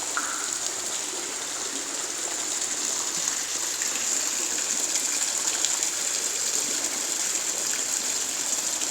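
A water feature at Sheffield Botanical Gardens trickles and splashes in a steady, unbroken wash of running water, close by and alone with no voices.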